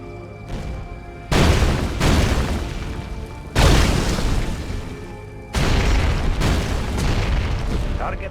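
Soviet warship guns pound a base during a one-on-one naval battle video game, with heavy booming salvos and explosions arriving in loud bursts over a continuous rumble.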